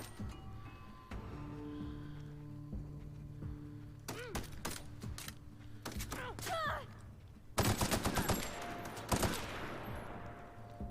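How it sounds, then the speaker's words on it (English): Assault rifle fire in the video game The Outer Worlds crackles in several sharp bursts and single shots, with a dense rapid volley near the end, over a low background hum. "Damn, that's a pretty good assault rifle"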